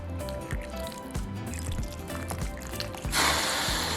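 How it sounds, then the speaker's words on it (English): Wet squishing, dripping and sloshing as japchae ingredients, chicken and water are stirred together in a pot, close and fairly quiet, ending in a brief louder splash. "Now just mix all of your ingredients in the pot."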